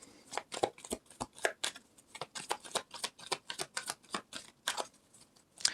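Tarot cards are shuffled by hand, a quick run of crisp, irregular riffling slaps heard close and fairly quiet, with no speech.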